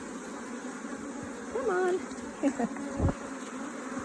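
A dense, steady hum of many bees crowding a corner of a top bar hive, heard close up as a continuous drone, with a person briefly murmuring over it and a few handling knocks.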